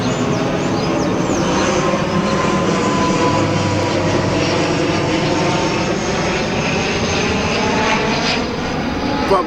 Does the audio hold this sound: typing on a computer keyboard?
no